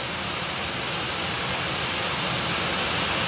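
A modified tractor's engine roars steadily under heavy load during a tractor pull at the Clay County Fair in Barnesville, Minnesota, with a constant loud, dense drone and a high whine riding on top throughout.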